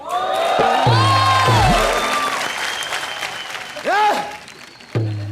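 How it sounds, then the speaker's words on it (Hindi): A studio audience at a Hindi TV comedy show bursts into loud, sustained applause and cheering, with music stings and whoops layered over the clapping. "जोरदार तालियां"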